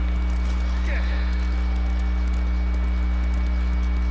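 Rhythmic clip-clop of horse hooves trotting in the video game Ghost of Tsushima, moderately loud over a constant low electrical hum, with faint talk in the background.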